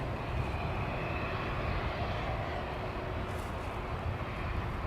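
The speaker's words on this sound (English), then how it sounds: "That polar cargo flight was coming in from Cincinnati" A Polar cargo plane landing at DFW airport, heard as a continuous heavy engine roar at a steady level with no talk.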